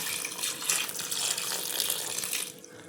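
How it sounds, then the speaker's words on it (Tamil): Water poured into a pressure cooker of toor dal sambar for four people, a steady close splashing stream running for nearly three seconds before easing off, with no talk over it. "இதில் வந்து இப்போ தண்ணி ஆட் பண்ணிக்குவோம்."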